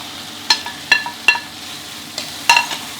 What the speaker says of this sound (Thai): ใส่ข้าวลงไปเสร็จก็ยีๆครับให้ไข่ข้าวเนี่ยมาคลุกเข้า กันดีเลยครับ